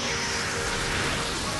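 Steady hiss of rain from the Pokemon XD: Gale of Darkness video game, a constant broadband wash that stays level and continuous throughout with no breaks.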